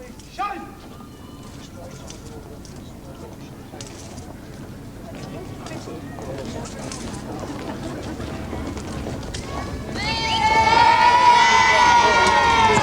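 Crowds cheer and clap at the Queen's 1988 royal visit to Paisley as she is escorted to her car, a steady outdoor roar that swells louder toward the end, with some shouts and a narrator speaking over it.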